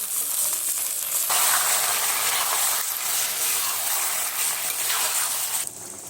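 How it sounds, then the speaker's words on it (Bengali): Pieces of mutton dropped into hot oil over deep-red fried onions, giving a loud, continuous close-up sizzle and crackle that holds steady for several seconds before easing slightly at the end. "এবার মাটনগুলো দিয়ে দিচ্ছি।"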